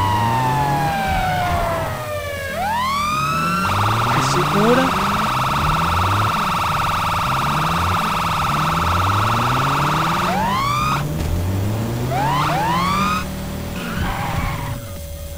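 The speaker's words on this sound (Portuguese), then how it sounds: "Sirene também tá diferente" A loud police siren from GTA San Andreas with a GTA V sound pack wails and yelps in rising sweeps while an engine revs and shifts gears repeatedly underneath, with a voice speaking briefly.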